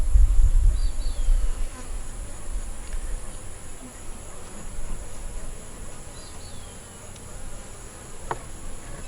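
Honey bees at a queenless hive drone in a steady, close buzz that carries through the whole stretch with no voices.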